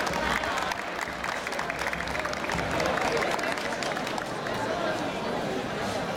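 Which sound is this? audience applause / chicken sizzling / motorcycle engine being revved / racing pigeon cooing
audience applause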